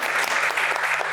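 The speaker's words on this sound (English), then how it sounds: "let's give them a round of applause as well." A short, steady burst of audience applause at the launch event of the Crimson Liberation Hub: dense, even clapping that is close and fairly loud.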